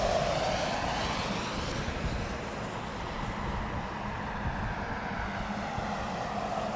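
A Boeing 777-300 in heavy rain, a broad steady jet roar that stays loud throughout and fades slightly partway through, without speech.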